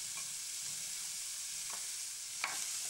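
Shrimp and red peppers stir-frying in oil in a pan, a faint steady hiss with two or three brief spatula scrapes toward the end, no voices.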